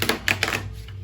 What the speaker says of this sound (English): I hate doing this shuffle.